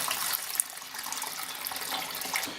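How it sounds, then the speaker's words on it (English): Homemade wine liquor poured into a jar in a steady, close stream of splashing liquid that runs for the whole stretch with no talk. "pour the liquor in like that"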